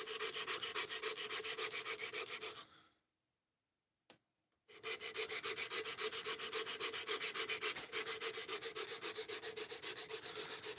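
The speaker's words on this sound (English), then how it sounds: "We're doing some edge retention testing on this knife right here, and we hit the point where we need to sharpen it" A knife blade being sharpened after edge retention testing, steady rhythmic rasping strokes close up, pausing briefly for about two seconds before resuming the same back-and-forth scraping.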